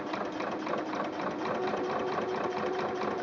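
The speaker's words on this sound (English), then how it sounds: "I'm going to place my presser foot down, and as I start to sew" A sewing machine runs steadily as it stitches fabric with the presser foot lowered, giving a continuous close whirring drone for the whole stretch with no pauses.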